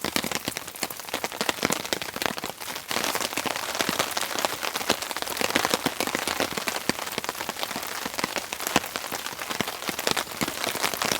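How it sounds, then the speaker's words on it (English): Steady heavy rain pattering on a camping tarp, a dense, close crackle of drops that stays loud and even throughout, with no voices. "And the rain's getting heavier."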